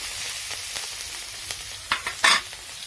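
Fish fries in a pan with onions in hot oil, a soft steady sizzle broken by a few louder spatters and stirring scrapes near the end.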